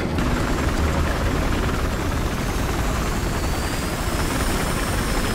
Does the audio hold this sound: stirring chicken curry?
no